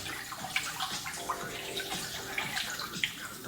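Cold water sloshes and splashes in a pot as rice is washed, a continuous wet churning with brief louder splashes and no talk.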